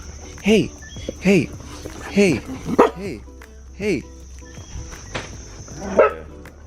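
Several dog barks ring out in separate bursts, close by in Jamaica, with a low background hum and some scattered voices around them.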